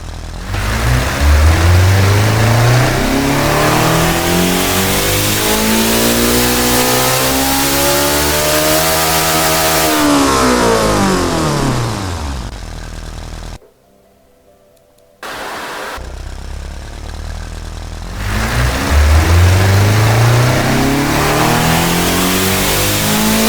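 A 750-horsepower-per-cylinder car engine in the Automation tycoon game revs on a dyno. It climbs from a low growl to a screaming high pitch, then winds back down and cuts briefly to silence. A second full rising pull follows, loud and close.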